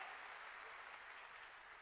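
Audience applause at a water conservation event in Surat, a steady dense clapping of a large crowd filling the whole short stretch without a break.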